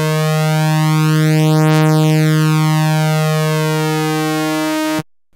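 A single sustained note from a 2600 synthesizer, a loud, bright, buzzy tone held steady for about five seconds with a shifting sweep through its harmonics, then cutting off abruptly.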